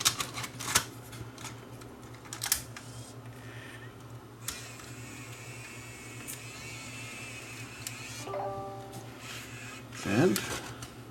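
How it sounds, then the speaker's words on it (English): Mechanical clicks and a whirring motor as a tape is loaded into a Sanyo VMEX-30 8mm camcorder with intermittent picture and no sound, sparse clunks early on and a brief rising mechanism whine near the end, quiet and close. "We'll try loading a tape."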